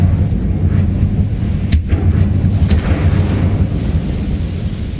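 A fire spell being cast in the video game Hogwarts Legacy: a loud, sustained fiery roar with a couple of sharp crackling bursts over a constant low rumble.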